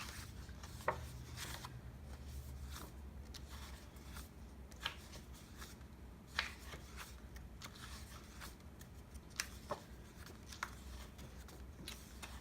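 Half of a 6x6 patterned paper pack from a scrapbooking kit is flipped through quickly, giving a run of soft papery riffles and sharp flicks, near and fairly quiet, with no talking.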